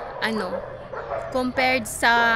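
Small dog yipping and barking at dusk in Nepal, a few high pitched yelps and whimpery barks close by, rising in loudness toward the end.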